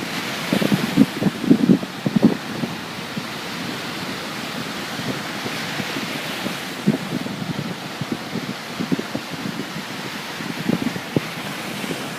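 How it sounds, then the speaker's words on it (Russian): Sea waves roll and break continuously with a rushing surf, gusts of wind buffeting the microphone throughout. "Послушайте еще море."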